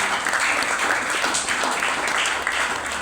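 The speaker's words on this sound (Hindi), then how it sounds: "हमारे चारों क्लब नंबर के लिए जबरदस्त तालियां होना चाहिए" Audience applause at a weekly company business meeting honoring top club members, a continuous even wash of many hands clapping, fairly close and filling the room without pause.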